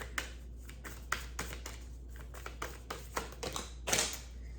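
Tarot cards being shuffled by hand, a run of soft papery riffles and taps of varying strength, close and fairly quiet, with a slightly louder burst near the end and no talking.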